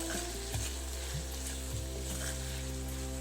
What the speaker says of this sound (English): open the lid and stir the sabji well